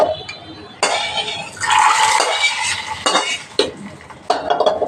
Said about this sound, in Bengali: তো ফোড়নটা আমি সরাসরি একবার ডেগে দিয়ে দিব।